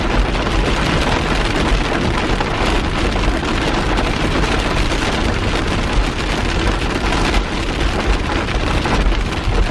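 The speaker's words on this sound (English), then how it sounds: "Getting out here in the rain is just part of camping." Steady, dense rain pattering on a surface, a continuous loud wash of drops with no pauses.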